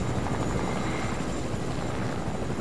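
A video game helicopter thrums with dense, steady rotor noise, loud and continuous throughout with no voices over it.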